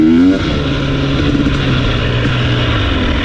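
A 2021 KTM 250 XC TPI two-stroke dirt bike engine runs at low RPM, a steady close buzzing drone after a brief louder blip at the start, with no talk.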